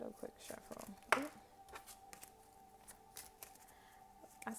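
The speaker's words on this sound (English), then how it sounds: "I'm going to do a little quick shuffle" Quick riffle shuffling of playing cards, a rapid burst of papery flutters over soft background speech.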